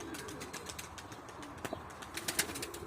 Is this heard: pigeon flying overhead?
yes